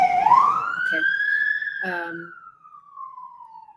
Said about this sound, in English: there's a siren going through.